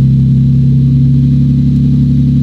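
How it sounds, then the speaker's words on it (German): Toyota 2JZ-engined convertible running without exhaust inside a hall, its engine droning steadily at a mid pitch with a strong low hum, close and loud, no talk. "Oh, krass, wie leise der ohne Auspuff ist."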